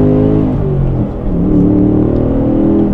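2024 Ford Mustang GT V8 with a six-speed manual, accelerating hard from second gear, its engine revving in a loud, rising, steady roar with a brief dip midway, close and alone.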